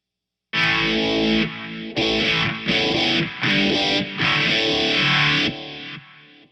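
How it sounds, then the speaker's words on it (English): Distorted electric guitar through a Keeley Vintage Phaser on its 4-stage setting and a distortion pedal, with a sweeping, swirling phaser, played as five sustained chords with short gaps before fading out. "I'm going to go ahead and go back to the 4-stage just so I can hear it with this dirt pedal"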